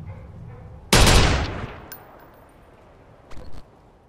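A single loud gunshot blast in Watch Dogs cracks out near the start and decays over half a second, followed later by a smaller, shorter burst of noise.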